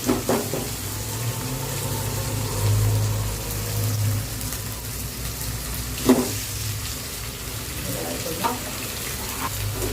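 Perandai pieces sauté with salt in a pan, a steady hiss with occasional stirring scrapes and a couple of sharper knocks, close by, with faint speech in the background.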